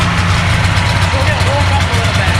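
A Polaris Indy Sport 440cc snowmobile sits idling just after being started, a steady loud low engine rumble held continuously at close range, with some talk heard over it.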